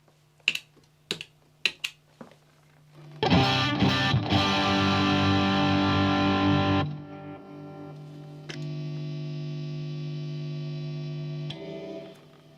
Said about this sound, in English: That's the sound of a single coil pickup without a noise gate.